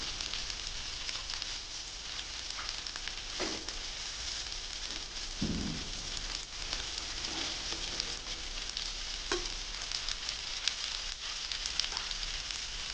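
Tomatoes go into masala frying in oil in a pan for tomato egg curry, a constant hissing sizzle with a few soft thumps and scrapes as they drop in.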